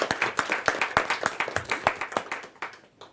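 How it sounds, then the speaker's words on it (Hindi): An audience at a Hindi kavi sammelan poetry gathering claps to welcome a poet on stage, a rapid, loud burst of hand claps with a distinct rhythmic pattern that thins out toward the end. "जोरदार तालियों के साथ हम उनका स्वागत करें"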